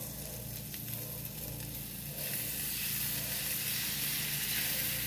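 Tomato purée hits golden fried tortillas in a hot pan and the steady sizzle jumps up sharply, then keeps hissing loudly and evenly close by.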